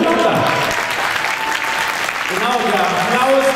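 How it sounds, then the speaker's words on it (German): Audience applause after a Polish brass band's open-air performance at a marching musicians' festival, sustained clapping filling the whole stretch with a voice speaking over it near the end. "der Applaus, das Brot des jungen Musikers"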